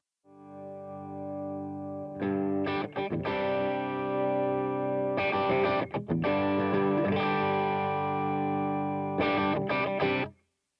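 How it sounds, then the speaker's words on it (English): A distorted electric guitar through an amp's crunch channel plays crunchy sustained chords and short strummed bursts, loud and close, ringing out before cutting off at the end. "I'm going to switch to a crunch channel, which is going to give me a little bit of gain."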